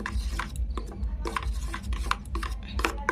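Snakehead (sol) fish being mixed by hand with mustard oil in a bowl makes soft, squelching rubs and scrapes with occasional light clinks, close and continuous.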